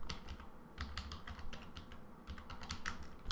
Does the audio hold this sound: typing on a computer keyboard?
yes